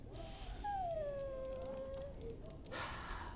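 A dog in a medieval-style video game lets out a sliding, drawn-out howl that falls into a long whine, standing alone close up and fairly loud, with a higher whimper near the end.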